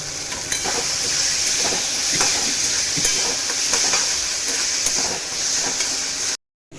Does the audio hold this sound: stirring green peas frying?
yes